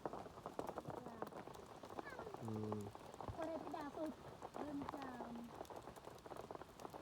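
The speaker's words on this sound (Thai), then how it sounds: "ส่วนเบิงห้วยละเง่นี่ฝนตกหนักแหงพูน" Heavy rain pours down over an open rural farm area, a dense steady hiss of drops that fills the whole clip while people talk over it.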